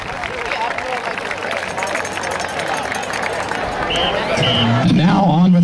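Crowd applause and cheering for homecoming royalty at a high school homecoming football game, broad outdoor noise with a band's tones rising near the end.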